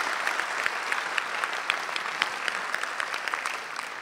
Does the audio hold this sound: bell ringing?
no